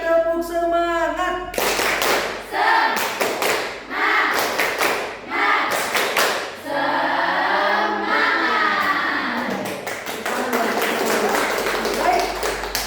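Classroom of high school students doing a rhythmic group clap-chant, with loud patterned bursts of clapping and shouted voices in a steady cadence, ending in a sustained clap run.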